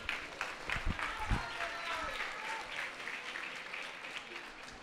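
Audience applause for a pianist at a charity market event, a short burst of clapping from a crowd with a voice speaking over it.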